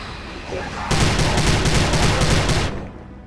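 Rapid automatic fire from a submachine gun in the video game Prey (2006), a steady burst of evenly spaced shots lasting nearly two seconds, loud and close, after a quieter ambient lead-in.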